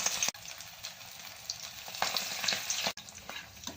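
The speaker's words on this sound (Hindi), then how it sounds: "तेल गर्म हो गया, पकौड़े डाल लेंगे।" Methi leaf pakoras sizzle and crackle in hot oil in a steady, close frying hiss, with a few louder bursts and two brief dropouts; no one talks.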